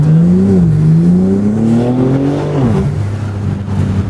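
A powerful BMW G80 M3 engine revs up close, its pitch climbing steadily, then dips and settles into a rumbling idle.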